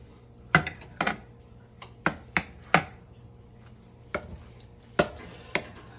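Southern meatloaf being sliced with a knife on a board, about ten sharp irregular chops and taps striking the surface, close and distinct over a quiet background, with no talking.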